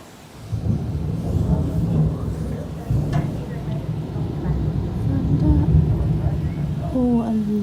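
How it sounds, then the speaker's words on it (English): Thunder rumbles long and deep, rolling on for several seconds near and loud, with rain in the background and a faint voice toward the end. "Oh, a lot of thunder."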